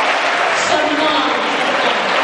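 A hall audience applauds with dense, continuous clapping at close range, loud and steady for a couple of seconds, with crowd voices mixed in.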